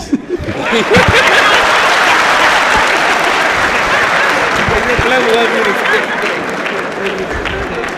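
Clapping fills a courtroom during testimony, a loud, sustained round of applause with some chuckling and voices mixed in, holding steady for several seconds before easing slightly.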